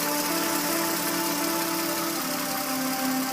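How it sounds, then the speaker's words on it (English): A 2014 Toyota Sienna AWD minivan engine idles steadily with an even low hum and slight mechanical knock, close by with no talking. "Taking a look at the engine, sounds okay."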